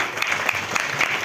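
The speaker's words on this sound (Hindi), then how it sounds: "मैं उनके सम्मान में एक बार जोरदार ताली चाहती हूँ।" A brief burst of audience clapping at a health talk, dense and close, with individual claps popping through the steady wash.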